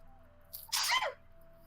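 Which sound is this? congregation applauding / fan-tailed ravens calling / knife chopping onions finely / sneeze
sneeze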